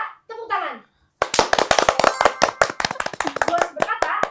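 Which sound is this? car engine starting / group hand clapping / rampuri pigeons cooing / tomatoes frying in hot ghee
group hand clapping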